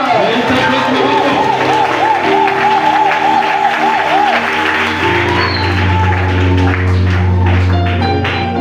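A church congregation claps and cheers in praise of the Lord at a loud, lively service, with a voice calling out over the steady applause.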